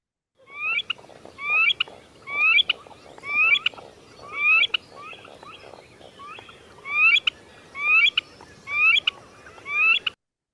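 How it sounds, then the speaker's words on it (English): Eared grebe calling in a prairie marsh, a rising, repeated three-part whistled phrase given about ten times in a steady rhythm, fairly clear over faint background noise. "they kind of sound like poo-wee-chick"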